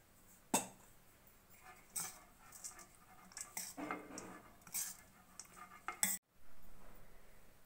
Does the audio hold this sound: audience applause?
no